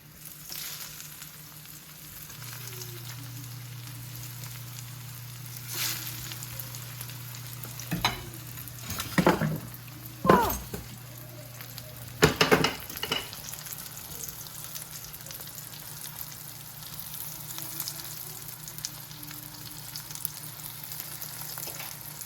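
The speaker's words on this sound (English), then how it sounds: "We're going to start frying these up." Breaded eggplant slices sizzle steadily in a frying pan, a soft continuous crackle with occasional louder pops and clinks of a utensil, and a low hum running underneath.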